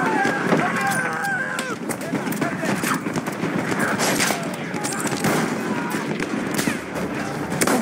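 Enemy machine gun in a first-person shooter, rapid bursts of fire and scattered shots mixed with battlefield noise and running footsteps, with a voice speaking over the action.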